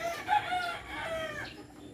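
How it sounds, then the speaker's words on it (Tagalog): Frizzle chickens and roosters in a garden, with ducks nearby, give a steady run of clucks and calls. A rooster crows partway through, close and fairly loud. "Mga manok na ugis ug lakton."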